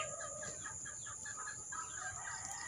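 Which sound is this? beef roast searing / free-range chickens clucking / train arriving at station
free-range chickens clucking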